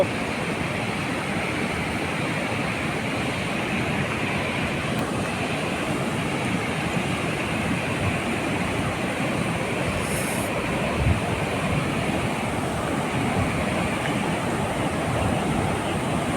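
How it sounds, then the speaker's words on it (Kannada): Water released from the Vani Vilas reservoir dam near Hiriyur tumbles down into a canal, a steady, unbroken rushing roar that holds at an even level throughout, with no voices over it. "ನೀರು ಮೇಲಿಂದ ಬೀಳ್ತಾ ಇರೋದು"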